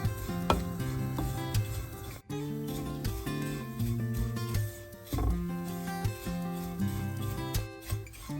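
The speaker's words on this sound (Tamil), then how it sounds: "தேங்காய்ப்பூவை ஒரு பொன்னிறமாக வறுத்தெடுப்போம்" Grated coconut roasts in a pan for biscuit ladoo, giving a soft sizzle under repeated scraping and stirring strokes of a spoon against the metal, close and uneven in rhythm, with no talking.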